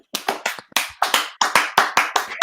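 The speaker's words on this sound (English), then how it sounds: "We're going to applaud for Sabrina." A small group claps for a performer at an at-home magic show: about a dozen distinct, close hand claps in an uneven rhythm, each sharp and separate rather than a dense ovation.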